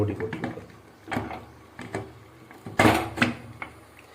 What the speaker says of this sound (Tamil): இந்த ஸ்டேட்டில் வந்துட்டு நீங்கள் மூடி போட்டுக்கலாம்.